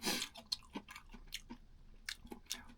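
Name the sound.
eating BHC Gold King fried chicken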